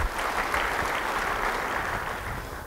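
Applause from a church congregation during a sermon, a short burst of dense, even clapping that stays moderately loud and tapers slightly near the end.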